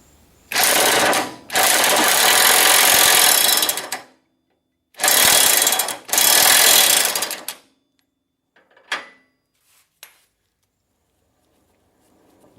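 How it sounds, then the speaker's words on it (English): Impact wrench loosening a 1 1/8 inch spindle bolt on a Cub Cadet Z-Force S 48 mower deck, two loud close bursts of rattling hammering with a short gap in each, followed by faint clinks and quiet. "Down here on the bottom end by the blade, have a 1 1/8 inch impact wrench or a socket."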